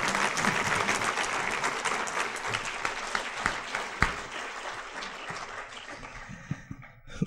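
Audience at a human rights public policy forum applauding a speaker, dense sustained clapping that thins out and fades toward the end, a few individual claps standing out.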